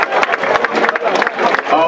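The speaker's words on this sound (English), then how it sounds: "How about a well-deserved round of applause for both our ring warriors?" Fight crowd at a boxing card in Glen Burnie, Maryland, clapping and cheering for both boxers after the bout, a loud, dense burst of applause mixed with crowd voices.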